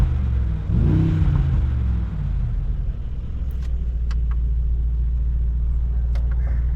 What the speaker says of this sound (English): Window down, let's hear the AMG V8.